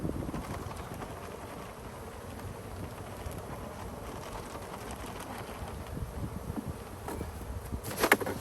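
Steady buzzing of white bees flying around close by during a hive inspection, a low continuous hum with no talking.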